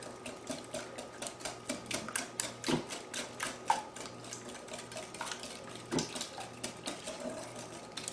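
Eggs being whisked in a bowl for German chocolate cake, a quick steady run of light clicking and tapping strokes against the bowl, close and fairly quiet, with no talking.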